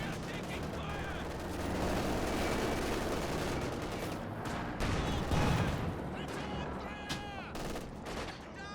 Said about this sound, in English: Oh my god, that was a huge rifle grenade.